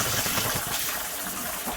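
Ration rice being rubbed and washed by hand in water gives a brief, close wash of swishing, splashing noise, continuous and fairly loud.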